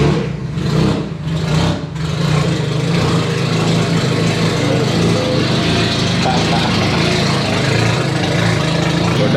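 Audi TT with a 1.8T engine idling steadily at its first start-up, a continuous close drone with a few brief surges near the start.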